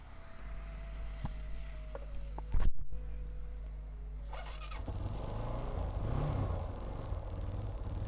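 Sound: second-hand motorcycle engine starting and running

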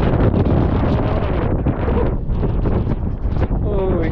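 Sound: strong wind blowing

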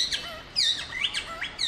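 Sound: man imitating bird calls with his mouth

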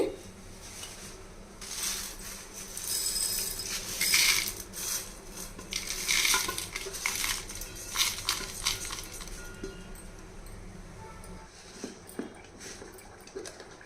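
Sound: mixer grinder grinding spices

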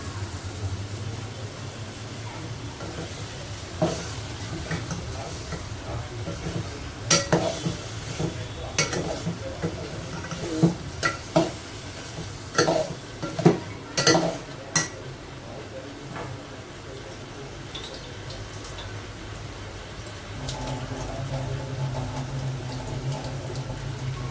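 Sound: masala being sautéed and stirred in a pan

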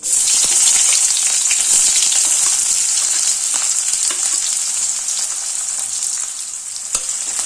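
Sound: sliced onions frying in mustard oil in a kadai

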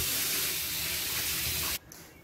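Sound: hot water running from tap

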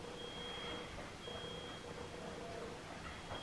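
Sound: fire alarm beeping

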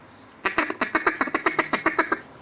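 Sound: duck call whistle being blown

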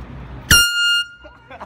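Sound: air horn blown

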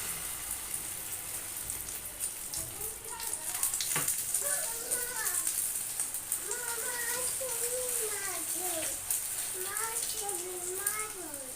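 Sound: egg frying on the stove with whole cumin

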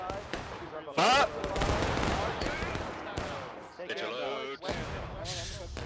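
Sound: musket volley gunfire in War of Rights video game

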